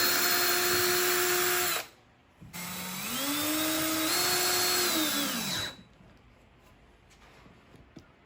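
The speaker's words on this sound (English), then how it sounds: "I'm going to drill, countersink," A power drill driving screws into wood on an outdoor bench whirs loudly, stops briefly, then revs again with a rising and falling motor pitch before winding down to quiet.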